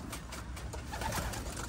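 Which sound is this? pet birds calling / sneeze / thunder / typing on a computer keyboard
pet birds calling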